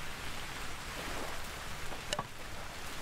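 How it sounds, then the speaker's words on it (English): Rain falls in the video game Vintage Story as an even, moderate hiss of drops that lasts throughout, with a brief bright click near the end. "Oh, it's raining."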